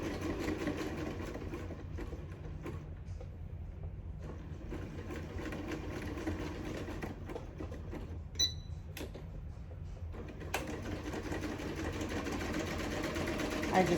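A sewing machine zigzag-stitching a scrappy fabric strip, a steady close mechanical whir with short pauses and small clicks, and a quiet voice speaking now and then.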